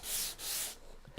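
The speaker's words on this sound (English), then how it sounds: "It comes with a whole raft of sanding pads, so you can change them out, different abrasive settings." A sander fitted with an abrasive sanding pad rubs across wood to distress it, making two quick, close, hissing sweeps followed by a quieter scrape.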